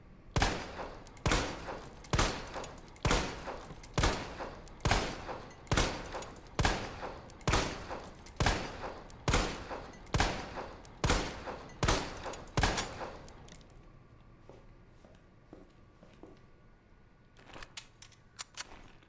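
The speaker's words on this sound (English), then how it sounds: "first test of the Samurai Edge original model Phase 2" Samurai Edge original model handgun fired in Resident Evil 2 Remake, about sixteen loud, evenly spaced shots in a steady rhythm, followed by a quiet stretch and a few soft mechanical clicks.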